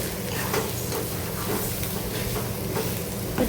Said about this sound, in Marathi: आता ही अंडी घातल्याच्यानंतर सगळं व्यवस्थित मिक्स करून घेऊया।